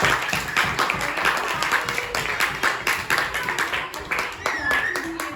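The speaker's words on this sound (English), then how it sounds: "Give them a round of applause." A small class of students claps steadily for several seconds, the applause close and lively, with voices mixed in underneath.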